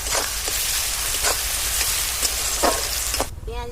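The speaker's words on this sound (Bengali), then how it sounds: "পেঁয়াজটা খুব ভালোভাবে ভেজে নিয়েছি, তারপরে রসুনটি দিলাম" Onion and garlic paste frying together in hot oil: a loud, continuous close-up sizzle with bursts of spitting crackle, cutting off abruptly near the end to a quieter tail.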